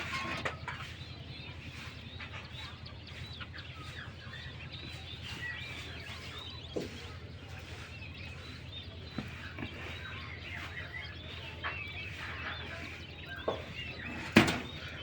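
Small king quails chirp steadily on a quail farm, a dense layer of faint, high bird calls running throughout, with a brief sharper sound near the end.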